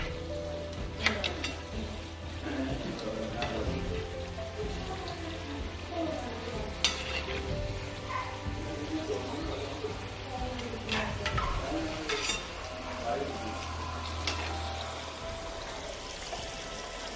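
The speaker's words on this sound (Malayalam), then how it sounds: "ഇതിനി അവിടെ ഇരുന്ന് നന്നായിട്ട് ഫ്രൈ ആവട്ടെ." Potato samosas crackle and bubble in hot oil over a medium-low flame, a soft, fairly faint frying fizz with occasional brighter pops and light utensil movements.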